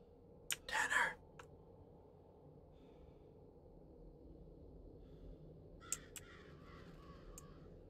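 In the Winterland video game, birds are scared off by a rake. Several harsh crow-like caws burst out at the start, then quieter calls come back later over a low ambient hum.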